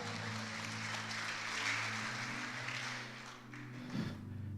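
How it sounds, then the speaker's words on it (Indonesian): A church congregation claps during a worship service, a broad, continuous patter of hands over sustained low musical tones, with a brief louder swell near the end. "tepuk tangan buat Tuhan"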